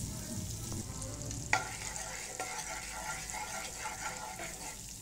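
Butter heating in a pan on medium flame for an Indian-style macaroni gives a steady, close sizzle with faint stirring scrapes and a brief clack, continuous throughout with no talk.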